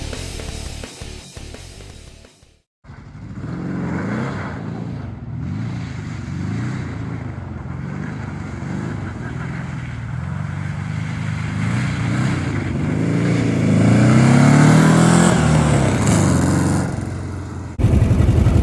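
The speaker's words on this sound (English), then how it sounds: "It's revving up, working good, fired right up actually" A VW rail buggy engine revs up close and loud after a brief quiet start, its pitch rising and falling in repeated surges before climbing to a sustained higher roar near the end.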